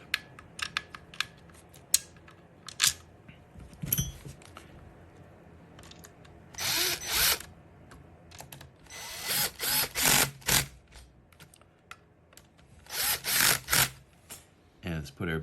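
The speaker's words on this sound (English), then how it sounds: "Put in my two little mounting screws." A power drill drives the two mounting screws of a Schlage electronic deadbolt, heard up close as several short whirring bursts separated by pauses and quiet handling clicks.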